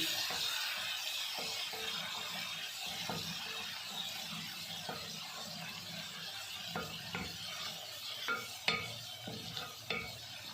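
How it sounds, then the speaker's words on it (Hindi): Garlic sizzles steadily in oil in a pan at a low level, with scattered scrapes and taps of a utensil stirring it through the hiss. No one speaks. "ये लहसुन डाल दिया मैंने, अब इसको भूनना है।"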